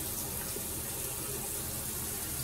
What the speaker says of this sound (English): I'm just gonna take some water and wet my face.